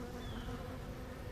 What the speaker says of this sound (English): Watch these bees here.